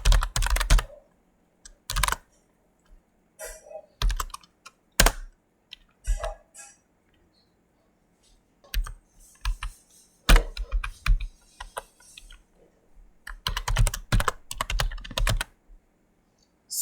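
Close keystrokes on a computer keyboard while JavaScript code is entered, coming in irregular clusters of quick clicks with short pauses in between and no talking.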